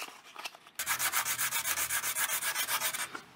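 Hand sanding with 80 grit sandpaper on rusty paint of a 2015 Chevrolet Silverado 2500HD truck: rapid, even back-and-forth rasping strokes, close and steady, after a few lighter scrapes.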